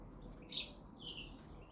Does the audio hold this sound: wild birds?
yes